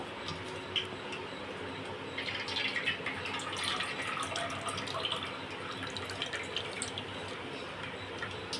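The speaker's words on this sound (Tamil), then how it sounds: "இப்போ இதை வடிகட்டிடுவோம்" Liquid made by dissolving an ingredient in two tumblers of water is strained to remove grit for Karaikudi manolam murukku, giving a continuous steady trickle and splatter with faint clinks throughout.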